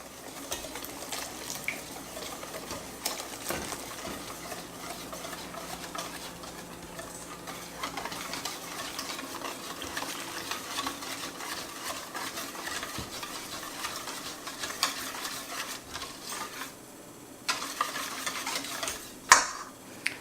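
Steady scraping and swishing of a utensil stirring thick sago batter for Indonesian lapis sagu as boiling water is added, with soft liquid splashes and occasional clinks, continuous and close, no voices.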